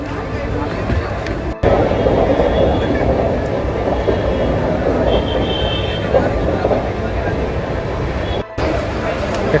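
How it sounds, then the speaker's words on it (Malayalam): A train leaving Andheri in Mumbai rolls along at speed, heard from inside a crowded coach as a loud, steady rattling rumble of wheels and carriage with faint squeals, continuous throughout. "കൃത്യം 8 മണിക്ക് അന്തേരിയിൽ നിന്ന് ട്രെയിൻ എടുത്തു"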